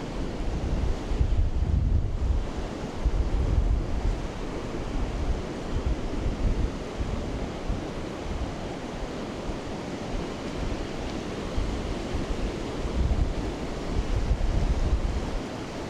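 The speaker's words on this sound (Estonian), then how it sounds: "siinses mõttes ei ole need tegemist suurte lainetega, aga Eestis see pigem kalduks juba mingi suurema tuule ja tormi poole" Ocean waves breaking on a beach along the Portuguese coast, a continuous broad roar of surf with rolling swells, mixed with strong wind buffeting the microphone.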